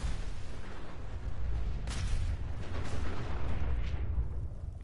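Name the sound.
explosions in the video game Fallout 4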